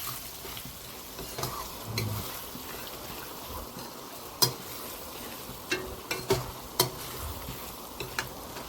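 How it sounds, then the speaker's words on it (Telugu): A spoon scrapes and stirs chili powder into a spicy Guntur-style egg curry sizzling in a pan, soft frying hiss under irregular clinks and scrapes that grow sharper toward the end. "కారం వేసుకున్నాం కూడా బాగా కలుపుకోవాలి"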